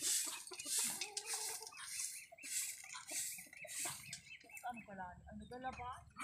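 Faint clucking and squawks of chickens in the background, scattered irregular calls mixed with soft ambient noise at a distance.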